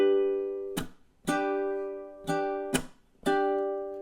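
A ukulele plays measure 15 of a fingerpicked and strummed chord melody: five ringing chords separated by short muted chunk strums, close and fairly soft, with no talking.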